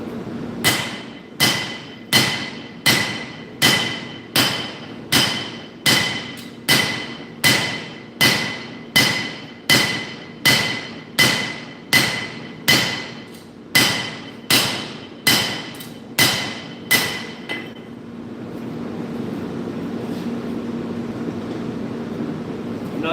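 Steel for a pair of nakiri knives being hand-forged with a hammer: loud, evenly spaced ringing blows, about one per second, continuing for most of the stretch before a steady low hum takes over.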